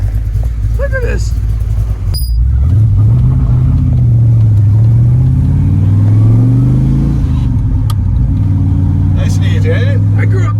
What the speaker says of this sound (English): I grew up in the 60s, so the muscle car sound is invigorating.